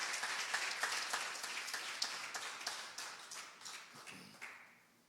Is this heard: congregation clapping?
yes